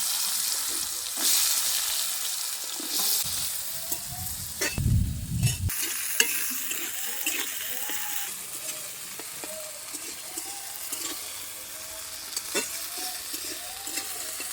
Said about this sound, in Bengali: এবার ওই তেলের মধ্যে আমি আলুগুলো দিয়ে ভেজে নেব।